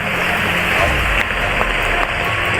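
Heavy tropical rain pours steadily among tall coconut trees, a dense, loud, unbroken hiss with no talking over it.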